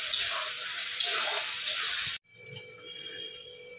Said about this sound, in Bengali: এটা আমি 5 থেকে 7 মিনিট মশলাটা কষবো।